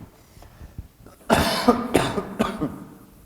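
Several harsh, close coughs come in a rapid cluster, preceded by a few faint throaty sounds, loud and raspy.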